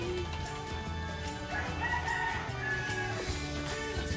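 Chickens cluck and a rooster crows in a busy outdoor setting, fowl calls layered steadily over a dense, continuous background murmur for the whole stretch.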